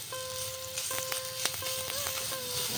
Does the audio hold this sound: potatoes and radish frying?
yes